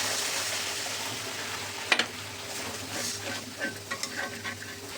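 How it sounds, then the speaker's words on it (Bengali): Dumur (fig) frying with onion in a pan, a continuous close sizzle under repeated stirring strokes, with a sharp utensil knock near the start and several soft scrapes later on. "একটু ভেজে নেব পেঁয়াজের সঙ্গে, যেন এর কাঁচা গন্ধটা চলে যায়, সেই পর্যন্ত ভেজে নেব।"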